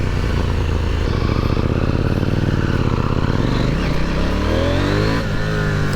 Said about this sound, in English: It's got a lovely pop about it too, you know, that exhaust note.